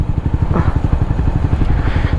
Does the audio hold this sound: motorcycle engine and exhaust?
yes